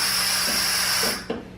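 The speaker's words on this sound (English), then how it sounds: "also blow the steam back out." Steam wand of a Gaggia Brera super-automatic espresso machine blasts a loud, steady hiss for over a second, then cuts off with a small click and sputter.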